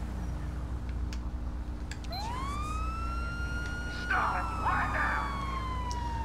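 Police car siren in the LSPDFR police game, a wailing tone sweeping up and holding steady, loud over constant engine and road rumble, with brief crackles partway through.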